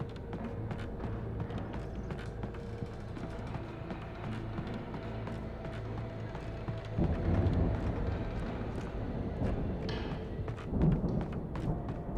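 Rain and rolling thunder in the Alan Wake video game, a steady low rumble of rainfall under layered game ambience, with heavier thunder swells near the middle and again near the end.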